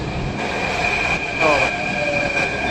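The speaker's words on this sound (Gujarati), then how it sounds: "તો આમ જો ભાઈ ટ્રેન આવી" A Delhi metro train pulls into a station platform, a steady rolling rumble with a high electrical whine and brief wheel squeals, close and continuous.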